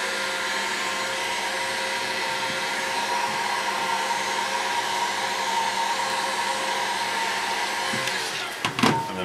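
Heat gun shrinking wrap onto a can, a steady close blower roar holding constant for several seconds before cutting off into a few brief handling knocks at the end.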